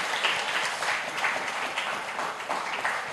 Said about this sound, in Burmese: ကဲလက်ခုပ်တီးမယ်